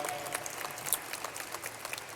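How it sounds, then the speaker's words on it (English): Applause at a school district athletic hall of fame induction ceremony, fairly faint and diffuse, with scattered individual claps through a large room. "I think this guy deserves a round of applause"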